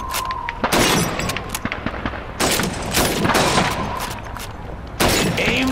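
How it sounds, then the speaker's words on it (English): Rifle shots ring out in Call of Duty 2 at bottles and plates on a shooting range, a handful of loud sharp cracks spaced irregularly over a few seconds, each with a brief ringing tail. "Shoot those bottles and plates."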